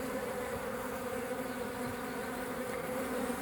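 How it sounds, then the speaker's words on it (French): Honeybee workers and drones buzzing at a hive, a dense continuous hum of many insects close by, steady and unbroken with no talking. "vous allez pouvoir observer en fait la différence entre abeille ouvrière et faux bourdon."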